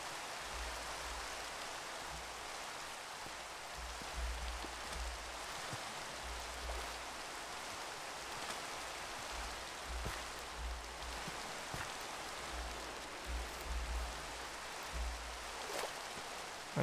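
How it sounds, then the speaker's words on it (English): Steady, soft rain falls in the Minecraft video game, a continuous hiss of drops with faint low rumbling underneath and no voice. "Oh, it's raining."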